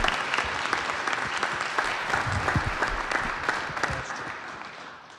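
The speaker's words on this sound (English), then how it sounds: "give them a round of applause" Audience clapping at a community startup pitch event in Kansas City, a steady burst of applause from a room of people lasting about five seconds and tapering slightly toward the end, with no talk over it.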